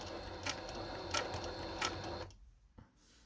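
A Necchi sewing machine driven by a servo motor runs steadily at close range, its motor hum and rapid needle ticking broken by a few louder clacks before stopping abruptly, leaving near silence.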